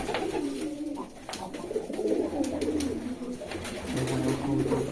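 Pigeons coo in low, repeated throaty phrases close by, layered over one another, with light rustling and a few soft clicks.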